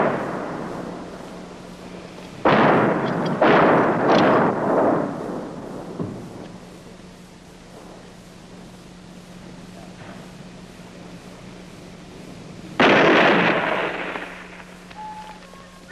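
Heavy fighting around Long Chen, Laos, with a cluster of loud, sharp gunfire or artillery bursts near the start, a quieter spell, then another strong blast, all over a steady low hum from an old recording.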